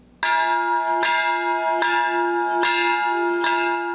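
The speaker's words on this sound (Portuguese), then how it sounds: "O som do sino é um chamado para os fiéis comparecerem à capela." A church bell rings out five loud, evenly spaced strokes, each one ringing on with a sustained metallic tone that overlaps the next.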